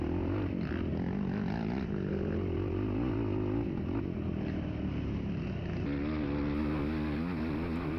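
Several off-road dirt bikes race together along a wooded trail during a Seneca Highlands race, engines droning steadily and loud throughout with a shifting, revving tone as one pulls close.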